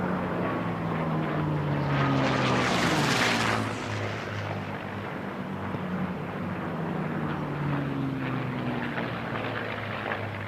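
Unlimited-class propeller racing planes, including a P-63, roar past at the Stihl National Championship Air Races, a loud pass swelling and fading around three seconds, with continuous engine drone and Doppler-shifting tones as others circle.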